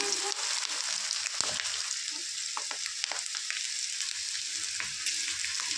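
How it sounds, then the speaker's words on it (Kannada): Okra, cut as ladies finger, fries in oil until crispy with a dense, continuous sizzle and scattered crackles and pops, moderately loud and close, with no voices. "ಎಲ್ಲ ಬೆಂಡೆಕಾಯಿನೂ ಫ್ರೈ ಮಾಡ್ಕೊಂಡಿರ್ತೀನಿ ನಾನು"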